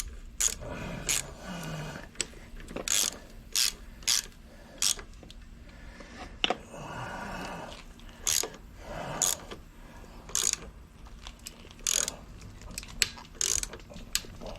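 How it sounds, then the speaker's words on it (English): A ratchet cranking a puller to extract an engine bushing from a Honda Helix scooter, with loud, repeated clicking bursts of the pawl in an uneven rhythm of short strokes, close up and with no talk. "All right, now let's see what happens with a ratchet."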